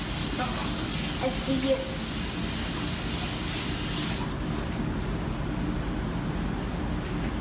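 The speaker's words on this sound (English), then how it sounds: "I'm gonna wash my hands real quick" Tap water spraying into a kitchen sink during handwashing, a steady broadband hiss that cuts off abruptly partway through, with a brief spoken remark over it.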